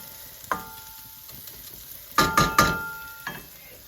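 Shallots and rice toast in butter in a pan, a steady close sizzle broken by a few sharp clinks and scrapes of a utensil against the pan.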